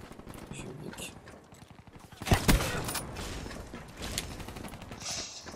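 Gunfire rings out in Black Ops 3 gameplay: a sharp burst of shots lands at the midpoint, over a busy background of game sounds, and fainter shots come later.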